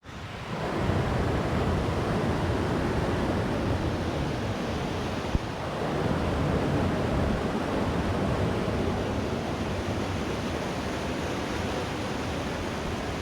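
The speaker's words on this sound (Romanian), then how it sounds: "Cascada Pudnei." Putna waterfall at Tulnici, Vrancea, roaring as a steady, loud rush of falling water, a continuous broadband wash from start to end with no voices.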